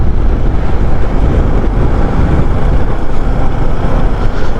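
A smoky boat engine drones steadily and loudly throughout, mixed with heavy wind buffeting and water rush, with no pauses.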